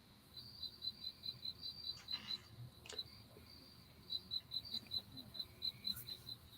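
Crickets chirp steadily at night in short, evenly pulsed trills. The sound is faint and distant over a soft background hiss, with no voices.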